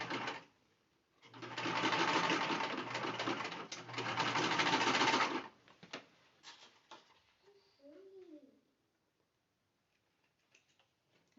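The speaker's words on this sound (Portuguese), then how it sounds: "Passa uma costurinha para fechar essa preguinha." A sewing machine runs in two steady bursts, stitching a small fabric pleat closed, followed by faint ticks and a brief soft chirp before near silence.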